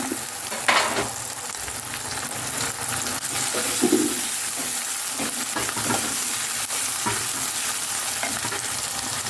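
Ginger, garlic and green chili frying in oil for Kashmiri chicken curry, a steady close sizzle with occasional stirring scrapes and clinks, no voices.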